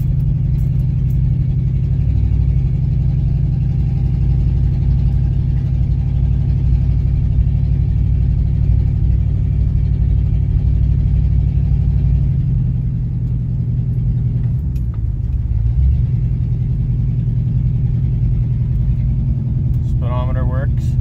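An Oldsmobile car's engine runs steadily with a low rumble during a test drive after a new transmission was fitted, with a brief dip and swell partway through and someone talking over it.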